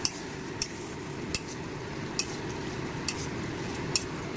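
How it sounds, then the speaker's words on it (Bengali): Spiced mung dal and tomatoes stir-fried in a pan, with a soft steady sizzle and sharp spatula clinks against the metal every second or so, no voices. "এটাকে ভালো করে কষিয়ে নিই"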